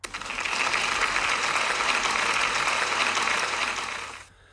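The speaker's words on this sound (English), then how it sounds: "Can we give Brian a big round of applause" A school celebration audience applauds a pupil: a dense, loud, even wash of many hands clapping at once, holding steady for about four seconds before quickly fading out.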